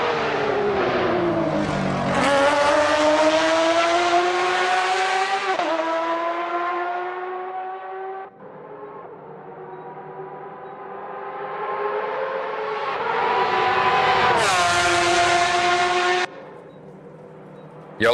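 Porsche Cup race cars at Road America roar past with loud, high-pitched engine notes that climb and drop through gear changes, fading away and then rising again as another car approaches.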